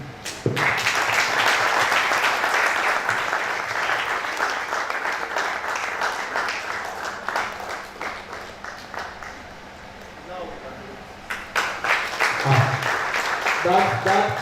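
Audience clapping after a presentation at a World Antimicrobial Day event, sustained applause that thins and tapers, then sharper scattered claps near the end, with speech.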